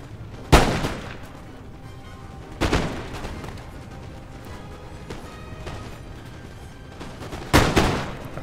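Musket volleys in the video game Napoleon Total War, three loud booming salvos spaced a few seconds apart, each a sharp crack with a rumbling tail over steady battlefield ambience.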